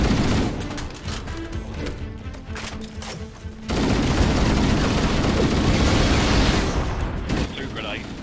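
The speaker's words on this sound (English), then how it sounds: "So we've got a steady stream of bullets going." Sustained automatic gunfire in the video game Halo Combat Evolved Anniversary, a dense rattling stream that grows louder and busier partway through, with a player talking over it.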